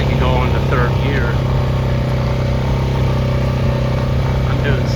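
Vehicle engine running steadily in third gear at about 7 mph while moving cows, a constant loud drone throughout with people talking over it.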